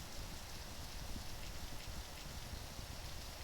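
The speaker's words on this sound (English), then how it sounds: "so now it's raining." Rain falls steadily outdoors near a convenience store, a dense even hiss with scattered drop patter, quiet and continuous with no voices.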